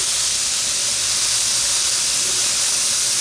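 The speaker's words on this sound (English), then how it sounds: "We are cooking some mushrooms" Mushrooms sizzle in a GreenLife 12-inch ceramic nonstick electric skillet on first use, with no oil added. The broad, steady hiss holds close and loud for the whole stretch, with no talking over it.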